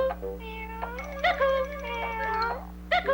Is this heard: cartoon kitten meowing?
yes